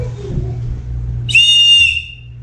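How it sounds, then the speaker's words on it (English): A piercing, very loud blast from a small howler whistle rises sharply for about half a second over a steady low hum, then cuts off abruptly. "I've got a little one of those howler whistles here."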